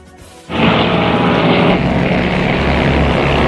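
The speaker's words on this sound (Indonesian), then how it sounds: "Pesawat tempur mereka beriringan, menembus langit dan awan putih yang membentang." US fighter jets flying in formation: after a brief quiet moment, a loud roar of jet noise hits suddenly and holds steady and powerful, close and overwhelming, with nothing else heard.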